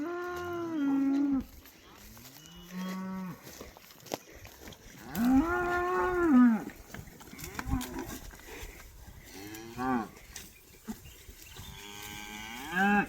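Cows on a farm moo loudly and repeatedly, with long drawn-out calls from close by, and a person speaks softly between the moos.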